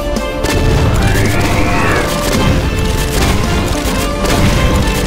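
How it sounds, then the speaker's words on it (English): A gunshot fires in a Doom game, a loud percussive blast opening a dense, sustained wash of game noise and crashing effects with no talk. "Fire a shot."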